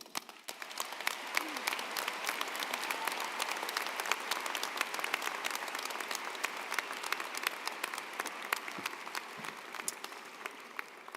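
A large commencement audience applauds the graduates with sustained, dense clapping that fills the hall evenly for the whole stretch.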